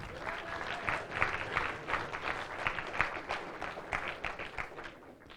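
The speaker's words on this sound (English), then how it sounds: "So let's applaud this company because it helped us." An audience at a physics tournament closing ceremony applauds, a fairly faint, steady patter of many hands clapping with a few sharper claps standing out, heard alone without talk.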